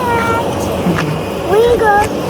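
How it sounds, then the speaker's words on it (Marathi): A house cat meows a few times close by at home, short rising and falling cries over a steady background, with a person's voice also present. "कॅट आहाय वय जाय ती कॅट आहाय"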